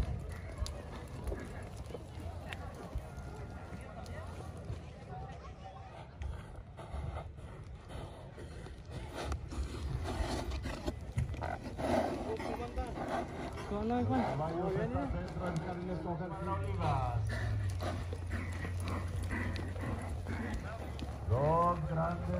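Racehorses move into the starting lane before a match race between two stables, with soft hoofbeats and stamping under the steady voice of an announcer and background crowd noise.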